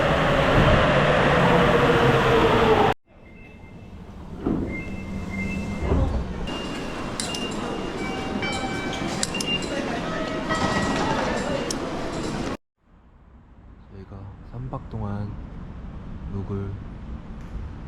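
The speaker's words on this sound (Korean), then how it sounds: "처음으로 이제 홋카이도에서 지하철 타고 오 습니다" Rumbling subway ride in Sapporo, Hokkaido, with steady rail noise and clatter, people talking over it, and abrupt shifts in the background as the scene changes.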